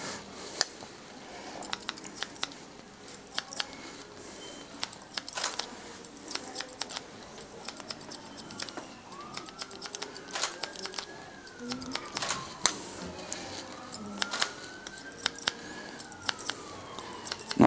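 Barber's scissors snip steadily through short hair, a quick irregular run of crisp metallic clicks, close and fairly quiet, with no talking.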